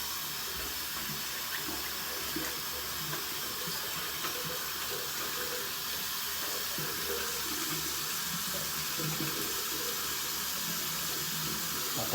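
Hot water runs steadily from a bathroom tap into a sink before a shave with a 1993 Gillette SensorExcel razor, a continuous broadband splashing hiss that stays even and close for the whole stretch, with no talk over it.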